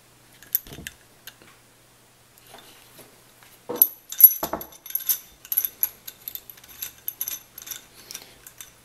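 A valve being screwed into a Drozd magazine cap gives small scattered metallic clicks and ratcheting ticks, sparse at first and then a denser close run of light scraping taps, all quiet.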